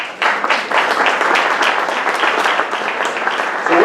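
An audience at an arts awards evening in Barrie applauds with loud, dense, continuous clapping that stays strong from start to finish, with no speech over it.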